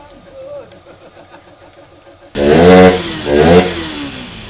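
A Yamaha WR155R motorcycle engine, freshly cleaned inside and in the combustion chamber, idles faintly, then revs loudly up close in two strong bursts before settling.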